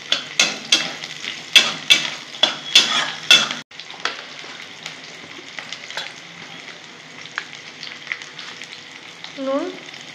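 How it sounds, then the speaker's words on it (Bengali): Onions frying in hot oil in a pan, a loud sizzle with a run of sharp rhythmic stirring clacks, then a lower steady crackle with occasional utensil taps. "পেঁয়াজগুলো দিয়ে দেবো। পেঁয়াজগুলো ভেজে নেব।"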